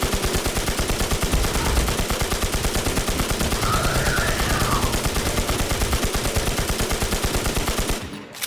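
Rapid automatic gunfire from shooting at bosses in the game Infestation The NewZ, a loud, steady stream of shots hammering almost continuously for about eight seconds before cutting off.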